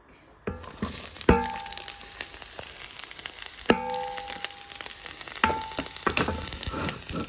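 Onion and garlic hit hot olive oil in a pan, setting off a sudden loud sizzle that keeps crackling steadily, broken by a few sharp clanks of a utensil against the pan.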